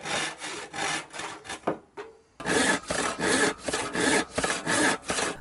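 A hand saw cuts through a flat-sawn wood plank in rhythmic back-and-forth rasping strokes, close and clear, with a short pause midway before the strokes resume.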